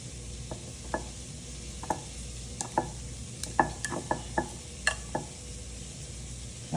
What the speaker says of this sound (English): And mix it around, make sure you get it fully coated.